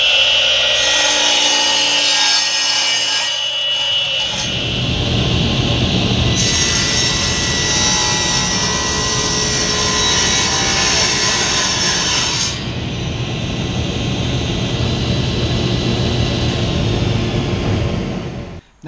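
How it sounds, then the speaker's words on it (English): Power saw, a table saw or radial arm saw, cutting wood stock to size for a cigar pen box: a loud, steady whining roar that swells as the blade bites into the wood and holds nearly continuously before winding down. "And then we'll take it over to the table saw and sometimes the radial arm saw as well to get it cut to the size to fit in the box."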